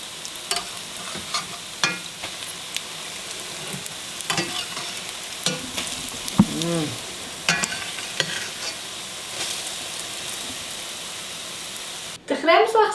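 Pancakes sizzle softly in a pan with a steady frying hiss, broken by occasional scrapes and taps of a spatula, and a louder clatter near the end.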